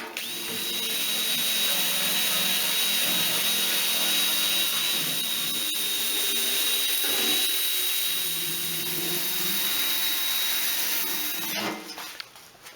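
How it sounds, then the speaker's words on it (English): A power drill spins a wire brush across a rusty, corroded vintage fuel can, holding a steady high whine with constant scraping for about eleven seconds before it cuts off near the end. "just going away with the sander here, with the drill and the wire brush"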